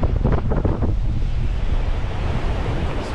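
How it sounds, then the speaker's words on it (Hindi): Ocean surf and strong wind at Arambol Beach in Goa, loud and continuous, with waves rumbling and wind buffeting the microphone throughout. "वेव्स काफ़ी अच्छी आ रही है आज, अगर काफ़ी सुंदर हवा चली हुई है"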